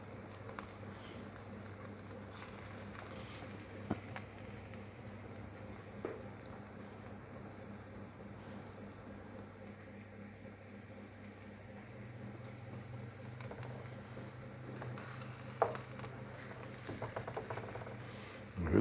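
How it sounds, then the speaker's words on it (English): Lamb pieces and garlic frying in oil in a pan give a faint, steady low sizzle, broken by a few soft clicks and pops. "We're going to fry it off, get a nice brown."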